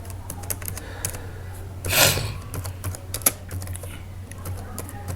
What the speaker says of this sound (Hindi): इस तरह मैंने कुछ टाइप कर दे दिया है